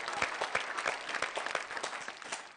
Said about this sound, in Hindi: आइए हम जोरदार तालियां बजाएं डॉक्टर सर्वेश अस्थाना के लिए